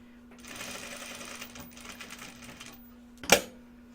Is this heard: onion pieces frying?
no